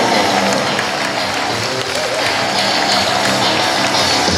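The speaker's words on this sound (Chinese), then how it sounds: "来这边掌声献给富邦 Angel。" Stadium crowd applause and cheering for the Fubon Angels cheerleaders during a break at a Fubon Guardians baseball game, a dense, steady roar of many hands clapping that holds at full loudness for the whole stretch.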